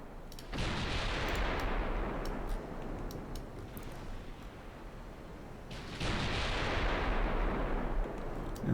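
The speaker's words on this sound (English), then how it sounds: "Opening fire." Naval ship guns fire in a dreadnought video game: two heavy, long booming salvos with rumbling tails, loud and close, separated by a sustained roar.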